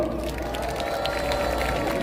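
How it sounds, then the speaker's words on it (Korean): Crowd at a Korean political rally applauding and cheering, a steady dense wash of clapping held at an even level for the full length, with no voices standing out. "여러분 큰 박수 부탁드리겠습니다"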